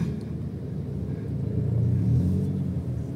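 A modified Toyota Vios GR TRD Sportivo runs with a low, smooth exhaust rumble that swells slightly, steady and close, with no voices.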